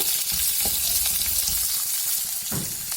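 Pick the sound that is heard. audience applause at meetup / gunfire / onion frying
onion frying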